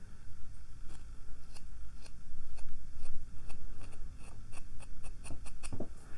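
A scraper working close to the microphone during an ASMR Reiki session, making rhythmic, scratchy strokes over a steady low hum, speeding into quicker repeated scrapes toward the end.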